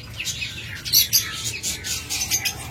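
Several large caged pet birds chirp and tweet close by in quick, overlapping bursts, with a low steady hum underneath and no talking.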